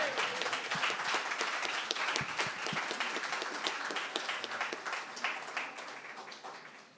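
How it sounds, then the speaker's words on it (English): Audience at a panel conversation applauding, a dense, steady round of clapping from a sizable crowd that holds for several seconds before gradually thinning out toward the end. "Give yourselves a nice round of applause if you're awake here today."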